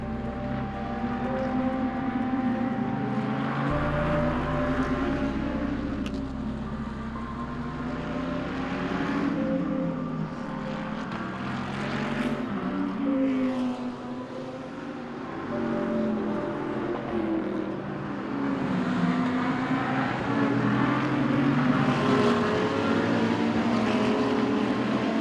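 Bentley Continental GT3 and McLaren 650S GT3 race cars lap a circuit, a continuous loud engine roar with shifting pitch that surges and fades as the cars pass.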